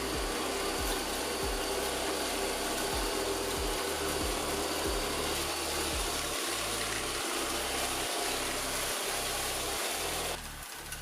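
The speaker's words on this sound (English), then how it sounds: "the Extravis V5 is a rather noisy vacuum cleaner" An Extravis V5 robot vacuum cleaner runs with a loud, constant whooshing whine, over a low churning layer that pulses in a regular rhythm, before the pitch briefly shifts near the end.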